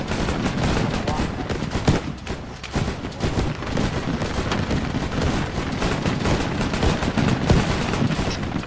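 Dense, sustained gunfire from an Arma video game battle, with rapid shots and bursts crackling continuously at loud level, occasional heavier booms mixed in, and faint voices underneath.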